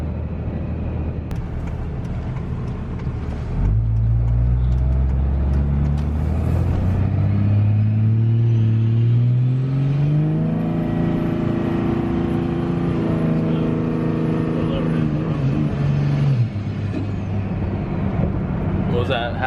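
A 2004.5 Cummins diesel truck engine with 10mm injectors and an S400 turbo revs at half throttle, climbing from idle to a loud, sustained roar, holding, then dropping back, with a turbo whistle on top and voices nearby.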